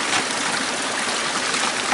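Water rushes steadily through a sluice box at a gold-mining site, a continuous close hiss and wash with no breaks and no voices.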